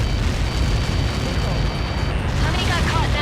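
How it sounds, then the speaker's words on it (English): A massive explosion impact in the aerial combat game Ace Combat 7 booms with a deep, sustained low roar that carries through the whole stretch, with radio chatter faintly underneath. "How many got caught in that explosion?"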